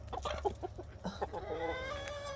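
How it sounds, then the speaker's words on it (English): Roosters in a garden cluck in a quick, uneven series of short, close calls, then give a longer drawn-out call, with a steady low hum underneath. "These roosters got to go. They have got to go. They are so noisy and so loud."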